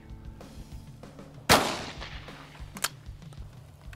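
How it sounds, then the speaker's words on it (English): An outdoor shotgun blast at clay targets, one sharp loud report with a decaying tail, followed by a fainter metallic click, against quiet background noise. "I love shooting shotgun."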